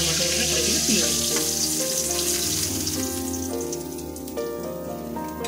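A 150-gram rohu fish head sizzles loudly in hot oil, a close, continuous crackling fry with a faint steady tone running beneath it.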